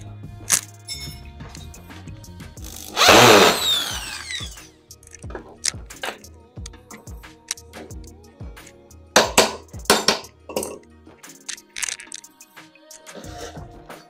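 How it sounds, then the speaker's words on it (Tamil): A power drill whirs in a loud burst for about a second, followed by a long series of sharp clicks and knocks from handling parts nearby. "அதை வச்சு நம்ம இந்த ட்ரில்ல ட்ரில் பண்ணி"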